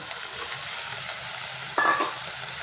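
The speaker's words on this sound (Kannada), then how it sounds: "ಪನ್ನೀರನ್ನು ಹಾಕ್ಕೊಂಡು ಸ್ವಲ್ಪ ಹುರಿಯೋಣ" Paneer frying in a pan with cashews and boiled peas, a steady close sizzle throughout with a brief clatter of stirring near the end.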